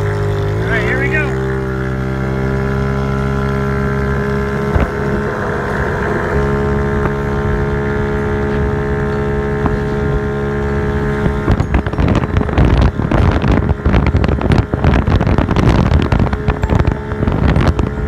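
A Yamaha Zuma X 4T 50cc scooter fitted with a stage 3 performance kit runs at top speed, its steady engine drone rising early and then holding, with heavy wind buffeting growing louder in the second half.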